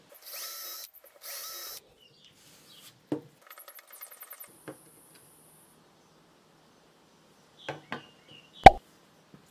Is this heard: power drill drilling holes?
yes